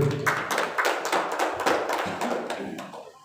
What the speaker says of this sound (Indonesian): Tepuk tangan untuk Bapak Ibu